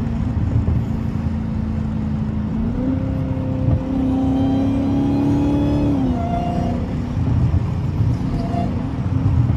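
A 2023 Dodge Charger King Daytona revs up, its engine note rising into a steady high whine that holds for a few seconds before dropping back, loud and close over a constant low rumble.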